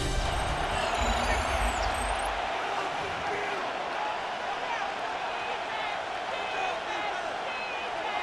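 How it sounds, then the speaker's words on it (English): A stadium crowd in Madden NFL 26 roars in a dense, loud, sustained wash of cheering throughout, with a heavier rumble at the start. "The crowd making their presence felt."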